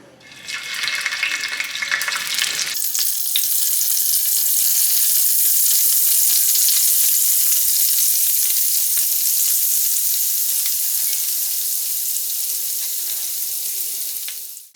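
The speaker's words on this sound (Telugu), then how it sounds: "నూనె వేడెక్కిన తర్వాత కట్ చేసి పెట్టుకున్న పన్నీర్ ముక్కల్ని ఎర్రగా ఫ్రై చేసుకుందాం" Paneer pieces hit hot oil with a loud, dense, continuous sizzle that swells right after a brief lead-in and holds steady, close and bright, with no talking.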